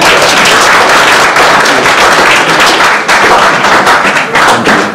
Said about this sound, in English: first one round of applause for all of you